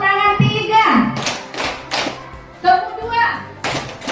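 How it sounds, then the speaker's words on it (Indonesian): Children clap their hands in a classroom clapping game, several sharp group claps landing in a loose rhythm between bursts of children's chanting voices, close and fairly loud. "Tepuk tangan 1, tepuk tangan 2, tepuk tangan 3."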